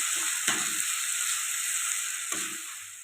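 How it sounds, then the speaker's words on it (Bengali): Green chilli paste and ginger paste stir-fried with lightly fried tomatoes in a pan, a close, steady sizzle broken by a couple of short scraping stirs. "এবার এর মধ্যে দিয়ে দেবো কাঁচা লঙ্কা বাটা আর আদা বাটা। এগুলোকে একটু নেড়ে চেড়ে কষে নেবো।"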